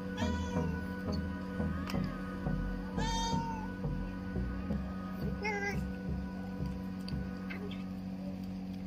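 A cat meows while being fed pudding, with several short, faint mews over a steady low hum and soft ticking indoors.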